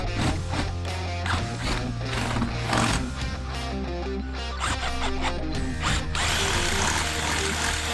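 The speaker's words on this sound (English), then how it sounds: "So I'm about to get the drilling right here" A power drill bores the mounting holes for a fishing rod holder, giving a harsh, loud, close mechanical whir that pulses and rattles in repeated bursts before one sustained stretch of drilling.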